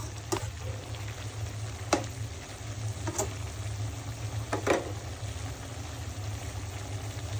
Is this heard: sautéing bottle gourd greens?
yes